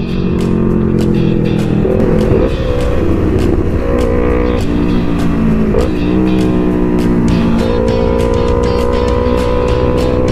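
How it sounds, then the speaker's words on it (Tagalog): Loud, close engine noise from many vehicles on a road during a mountain motorcycle ride, with engines droning steadily and several rising revs and passing whooshes throughout and no talk. "Marami ng sasakyan guys"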